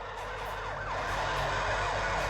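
Police siren in the motorbike racing video game Xtreme Motorbikes, a steady wailing tone sweeping up and down repeatedly over a constant engine drone, loud and continuous.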